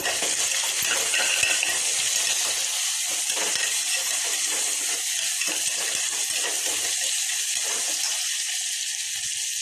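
Two large onions sautéing in oil for veg biryani, a continuous close bright sizzle with scattered clicks and scrapes of stirring, no voices.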